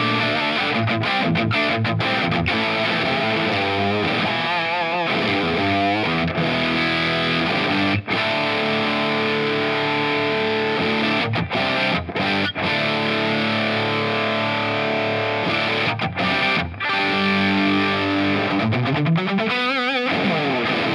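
Electric guitar played through a ProCo Rat 2 distortion pedal with the distortion knob at twelve o'clock, a loud, thick, sustained overdriven tone with chords ringing out continuously, a few short breaks between phrases, and a slide near the end.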